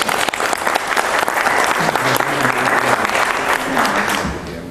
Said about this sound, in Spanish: le vamos a brindar un aplauso para recibirlo como merece